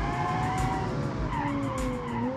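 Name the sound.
car skidding with tire squeal in video game BeamNG.Drive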